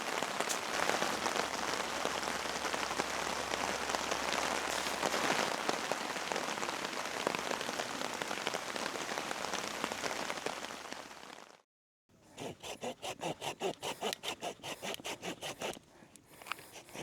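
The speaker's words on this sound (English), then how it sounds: "It's gonna rain." Steady rain hisses loudly and evenly over a primitive woodland campsite for about eleven seconds, then cuts off briefly. A rhythmic rasping, scraping sound follows.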